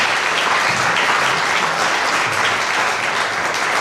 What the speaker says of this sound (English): let's give a round of applause for our speakers